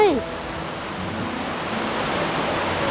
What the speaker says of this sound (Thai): มีน้ำตกด้วยคุณผู้ชมดูสิคะโอ้เนาะน้ำตกสวยๆ